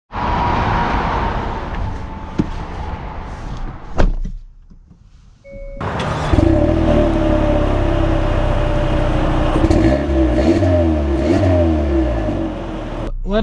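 A 2025 Hyundai Sonata N-Line, heard from inside the cabin, gives a door thunk and a pause, then its engine starts and revs. Its steady drone climbs in pitch as the car pulls away and accelerates.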